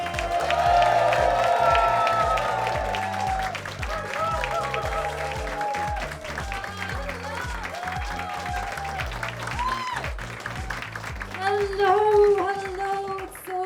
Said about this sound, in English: Give a round of applause for Aideen McQueen!